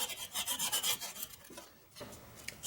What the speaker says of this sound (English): So we're just cleaning what little rust or if there's any burrs or whatever in there.